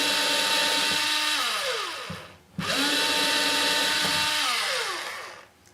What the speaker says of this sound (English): I try not to force through the peg either, because you'll get tear out on the back side. I like to let it drill its way through nice and easy.